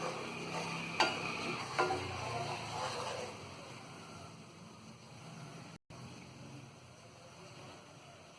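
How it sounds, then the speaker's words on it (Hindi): Pickle spice mix (achar masala) fries briefly in a pan, with a soft sizzle and a couple of light stirring clicks early on, then fading to a quieter hiss. "अचार का मसाला, इसे हम थोड़ा सा फ्राई कर लेंगे।"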